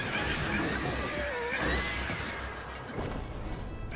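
A horse whinnies in a Zelda video game, a near and fairly faint neigh rising and falling over steady game noise and background sound.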